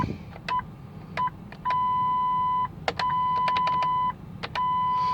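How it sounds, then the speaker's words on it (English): Repeated electronic warning beeps from a 2004 Lincoln Navigator with a compass fault, chiming in short and long tonal bursts, some brief and some held for about a second, clear and close with a low hum underneath. "it's beeping because the compass is aired out"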